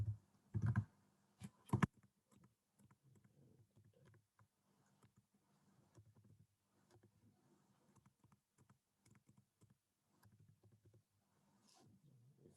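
Computer keyboard typing, quiet scattered key clicks in short irregular runs over about twelve seconds, after two louder knocks at the start.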